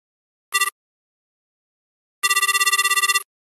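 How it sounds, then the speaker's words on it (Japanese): A telephone rings on an outgoing call: one short burst of trilling ring, a pause, then a longer warbling ring. The rings are loud and close, with no talking. "林に電話を入れてみるわ"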